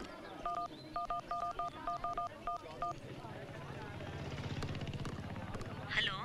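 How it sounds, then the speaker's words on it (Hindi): A telephone keypad is dialed in a quick series of short beeping tones, after which a steady low rotor-like rumble takes over with a faint voice near the end. "एक और फोन करता हूँ।"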